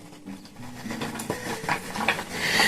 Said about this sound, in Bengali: এটা এখন পুরোটা আমি এর মধ্যে মিশিয়ে দিলাম